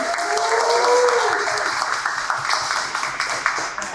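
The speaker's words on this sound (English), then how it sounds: "I want you to cheer up Sasha, because this is her first time ever speaking publicly" An indoor audience at an industry conference applauds a speaker, a dense, steady wash of clapping hands sustained for several seconds, fairly loud and close, with no talk over it.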